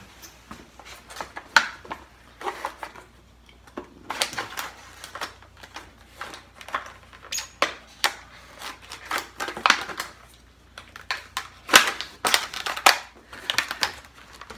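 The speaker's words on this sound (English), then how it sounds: "we're going to cut this out of the box, get my knife out." A knife slicing a small trail camera out of its retail packaging, with irregular scraping cuts and plastic crinkles that come in close, sharp bursts over a quiet room.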